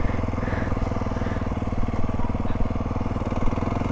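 A 2021 Aprilia SX 125 single-cylinder motorcycle fitted with an Arrow exhaust idles and revs gently up close, a loud, steady, buzzy engine thrum with slight rises in pitch.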